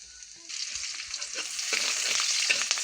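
Curry put into a hot pan with onion and chili, a sizzle that jumps up sharply and grows louder, with light stirring scrapes close by.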